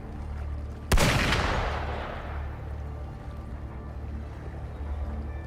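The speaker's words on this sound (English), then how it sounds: "Gunfire!" A single heavy gunshot or blast in the video game Wuthering Waves, one sharp loud crack followed by a long, fading rumbling echo over a low ambient drone.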